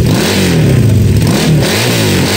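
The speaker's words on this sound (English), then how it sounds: "Sounds pretty low at idle, but once you rev it up, it does pick up a bit" A car engine revs hard through an exhaust fitted with baffles, the throaty roar climbing and falling in two close surges over a steady low rumble, loud and near.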